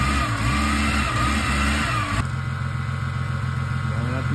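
A Toyota Supra engine runs loud and close with a steady low rumble and a rough, throaty tone. It shifts abruptly partway through to a smoother running note, and someone talks over it.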